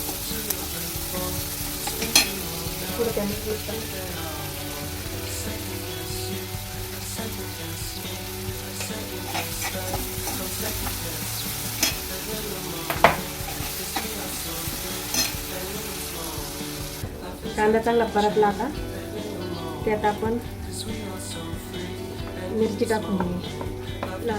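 Onions with turmeric powder fry in a pan, a continuous close sizzle with the scrape of stirring running throughout while a person talks over it.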